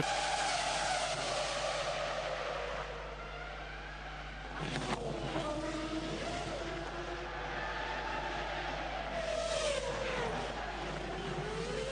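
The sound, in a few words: Formula 1 car skidding and hitting barrier at Monaco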